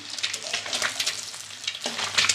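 Eggs frying medium in hot oil for a poultry egg curry, a steady close crackling sizzle with small pops throughout, alone without talk.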